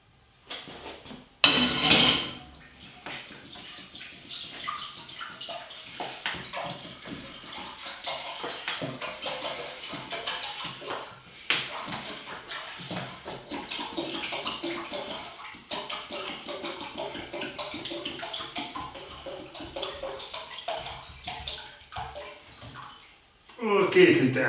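Tap water runs into a pot, about two liters, to be boiled for Chinese sweet sesame chicken in a home kitchen: a steady rushing stream for around twenty seconds with a few clanks of metal, and voices in the background.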